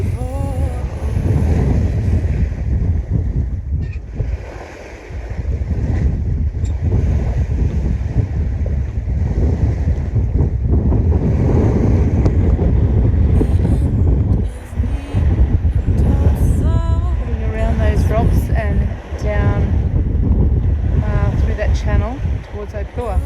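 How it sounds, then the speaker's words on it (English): Big ocean swell waves rush and churn around a sailboat heading into Opua in the Bay of Islands, New Zealand, blended with loud, continuous wind buffeting the microphone while a voice talks intermittently. "And we have these big waves coming in."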